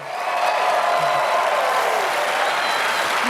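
A steady wash of clapping, like an audience applauding continuously at moderate volume, with a faint voice underneath.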